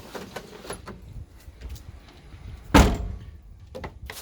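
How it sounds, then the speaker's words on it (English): A Mazda B2200 mini truck door swings shut with a single solid slam, loud and close, following a few quieter clicks and rustles of handling. "So door closes"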